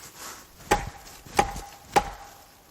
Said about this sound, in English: they're hitting on a very large tree